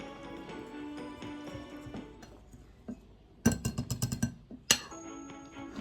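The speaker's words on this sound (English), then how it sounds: "we are going to add in the salt, the baking powder and baking soda, and then we mix" A utensil clinks against a bowl in a quick, quiet burst as salt, baking powder and baking soda are mixed into the dry ingredients for peanut butter cookies, with softer kitchen handling sounds before it.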